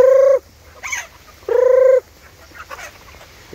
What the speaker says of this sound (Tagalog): Ito nga pala yung ating mga ligaw na manok.